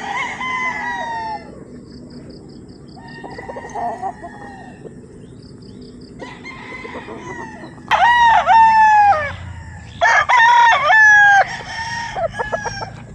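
Larry Romero's gray rooster crowing loud and close among other fowl, several drawn-out cock-a-doodle calls in bursts with clucking and softer crowing between, over a quiet farmyard background.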